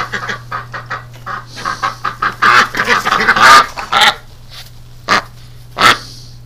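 Chickens or ducks calling in a backyard flock, a run of short clucks and quacks in quick bursts, fairly near, over a steady low hum.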